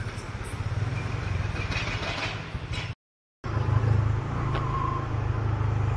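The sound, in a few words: vehicles driving on a dirt mountain road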